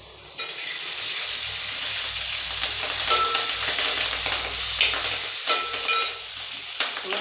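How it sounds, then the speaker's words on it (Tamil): Green chillies splutter and sizzle in hot oil in a pan while cooking egg kuzhambu with chopped onion; a steady, loud frying hiss runs throughout with sharp crackles and pops, no talking. "டப்பு டப்புன்னு தெரிக்கும் பச்சை மிளகு போடும்போது"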